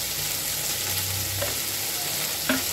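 Carrots and potatoes frying in a pan for poha, a steady loud sizzle throughout with a few soft scrapes of a spoon stirring the vegetables.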